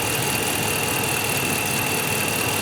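A 2010–19 Dodge Ram 5.7L Hemi idles steadily while warming up during a thermostat replacement, giving a continuous, even engine hum with a faint high whine over it, with no talk.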